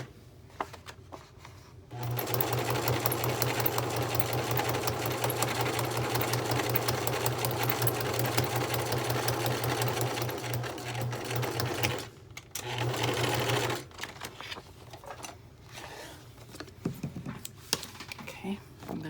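A sewing machine stitches through a smash book page, running in a steady, fast mechanical whir for about ten seconds, pausing briefly, then resuming before stopping, with clicks and handling noises afterward.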